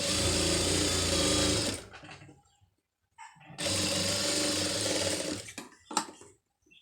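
Tailoring sewing machine stitching a seam, a loud steady mechanical run of about two seconds, a pause with faint handling noise, then a second equally loud stretch of stitching and a brief clack.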